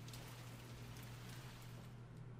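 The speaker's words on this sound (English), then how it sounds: "Oh, it's raining inside." Steady indoor rain in the video game The Mortuary Assistant patters softly and continuously, with a low constant hum beneath it.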